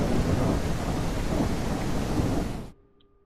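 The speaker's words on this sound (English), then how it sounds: "And of course, the storm is coming." A video game thunderstorm in Mist Survival rolls as a loud, dense wash of rain and rumbling thunder filling the whole clip, then cuts off abruptly into near silence.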